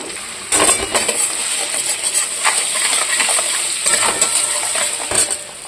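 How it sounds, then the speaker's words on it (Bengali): Turmeric and chilli powder fry in a pan under a constant sizzle, with repeated scraping and clinking strokes of a spoon stirring them, close and fairly loud. "এবার দিয়ে দেবো হলুদ দিয়ে দিলাম লঙ্কা গুঁড়ো"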